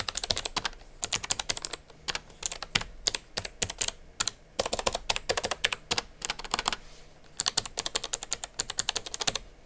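Mechanical keyboard on an MSI gaming laptop, typed in quick loud bursts of sharp clicky keystrokes with short pauses between runs, close up and with no talking.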